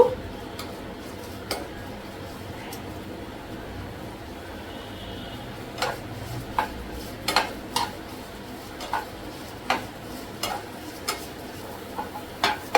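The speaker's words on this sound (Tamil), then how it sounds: "இப்போ வெங்காயமும் வதக்கி வச்சுக்கலாம்" Onions sautéing in a pan until golden give a faint, low sizzle, while spatula scrapes and metallic clinks grow more frequent and louder toward the end.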